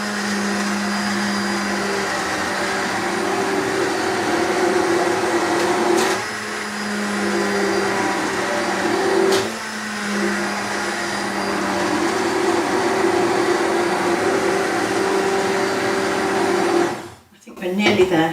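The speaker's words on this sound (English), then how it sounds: "we're going to blend this until all the lumps have gone, but do remember to keep the stick blender in the soup" A stick blender whirs steadily as it purées lumpy soup in a pot, a constant motor drone with slight pitch shifts as the blade is moved around, running for most of the time before cutting off near the end.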